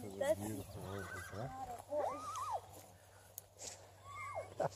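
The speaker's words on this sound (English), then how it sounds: "That's a beautiful horse, huh?" A horse neighs and whinnies several times nearby, rising and falling cries breaking through excited talk from people watching, with faint hoof clops in the background.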